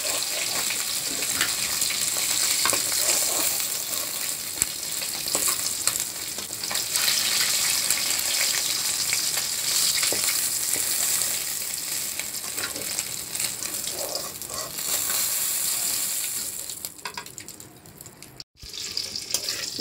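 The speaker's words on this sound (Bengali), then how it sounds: "মাছগুলোকে কড়া করে ভেজে নামিয়ে নেব" Fish fries in hot oil, a continuous dense sizzle with spitting crackles that fluctuates in intensity, close up, before dropping away near the end.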